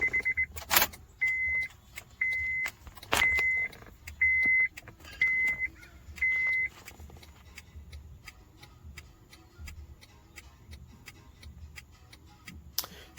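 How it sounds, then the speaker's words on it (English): Ignition on a 2012 Honda Accord switched on and off, giving a series of steady electronic chimes in regular bursts over the first seven seconds, followed by quieter ticking and clicking inside the car. "you're going to cycle the ignition on and off 1 or 2 more times as requested by the system."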